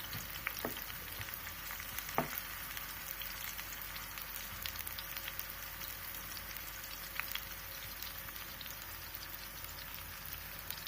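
Chopped onions frying in hot oil in a pan, the start of an Indian-style bhindi (okra) fry, giving a steady close sizzle with a few sharp crackles and pops over the hiss.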